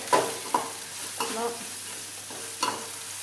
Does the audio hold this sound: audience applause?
no